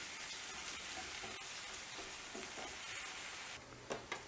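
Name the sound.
green onions sautéing in a pan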